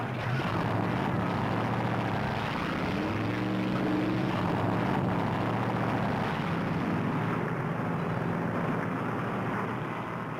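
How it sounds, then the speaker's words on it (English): Many stock car engines rumble together as the field sets off at the 1964 Darlington Southern 500, a dense, continuous roar with low pitch shifts, heard from some distance. "44 cars, the fastest stock cars in the world, ease away from the starting line on the main straightaway to begin a slow parade lap"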